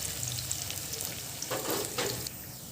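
Dhekia fern pakoras fry in hot oil in a wok, giving a steady close sizzle with a few brief bubbling bursts and faint clinks, without speech.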